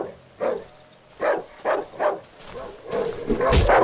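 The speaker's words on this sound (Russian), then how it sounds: "Слушай, вот там собака." A dog in the horror survival game Darkwood barks in a series of separate, fairly close woofs with uneven gaps between them. A scuffle and louder noise build up near the end.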